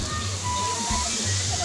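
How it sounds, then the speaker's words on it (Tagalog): Water sloshes and splashes in a village river crowded with bathers, close and continuous under a nearby person speaking. "Grabe, ang daming naliligo dito sa ano, sa ilog ng barangay dito."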